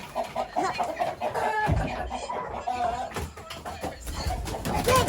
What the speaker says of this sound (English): I'm gonna catch a chicken